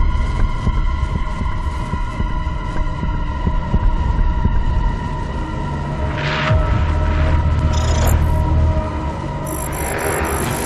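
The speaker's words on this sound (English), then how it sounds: "The generator is now at full power." A generator running at full power in DOOM Eternal gives off a loud, steady low hum with a heavy rhythmic throbbing like a heartbeat, while faint higher electronic tones flicker in and out above it.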